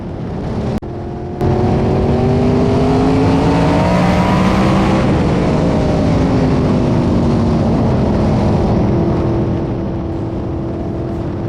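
An in-car race car engine during an A main feature at Indianapolis Raceway Park roars loudly and continuously, its pitch climbing and falling with gear changes and throttle, close and dominant throughout.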